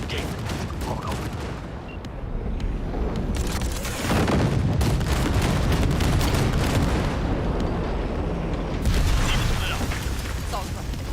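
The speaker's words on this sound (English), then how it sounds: "The monster gate needs to be blown open." In the video game Cyberpunk 2077, an explosion blows open a gate with a long, heavy rumbling roar that swells and holds for several seconds, under game dialogue and surrounding combat noise.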